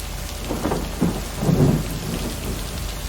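Video game thunderstorm in a wooded area: constant rain hiss with a couple of deep, close thunder rumbles rolling in over a few seconds, no talking.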